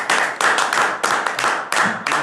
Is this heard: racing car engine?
no